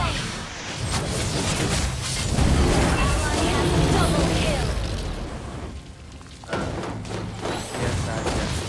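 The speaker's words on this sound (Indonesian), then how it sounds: "Kalian tidak bisa lolos dari ledakan." Booming fire explosions from Valir's attack in Mobile Legends, heavy thuds and bursts rolling one after another amid game voice lines and battle noise.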